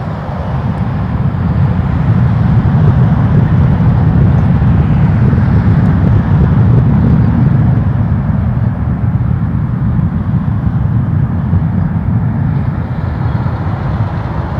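A WestJet airliner takes off from runway 23 at Toronto Pearson Airport, a loud, sustained low jet roar that holds steady and close throughout with no voices.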